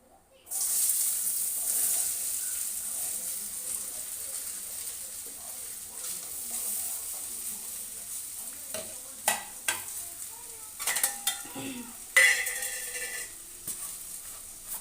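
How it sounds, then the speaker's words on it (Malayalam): Potatoes, onions and green chillies fry in a pan with a steady, close sizzle, broken by occasional stirring scrapes and clinks toward the end. "ഉരുളക്കിഴങ്ങും സവോളയും പച്ചമുളകും ഇട്ട് കൊടുക്കുവാണേ"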